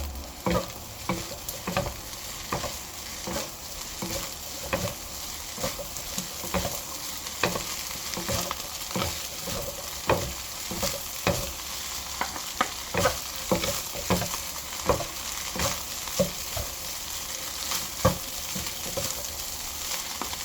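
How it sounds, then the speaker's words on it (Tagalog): Tom yum seafood fried rice gets stirred in a hot pan, a spatula scraping and tossing in irregular repeated strokes over a soft, constant sizzle, moderately quiet and close with no talking. "Stir lang natin another 1 minute."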